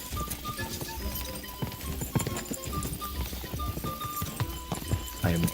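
Horse hooves galloping in the video game Kingdom Come: Deliverance II, a busy run of clip-clop beats at a quick pace with an occasional whinny, set among game sounds and music.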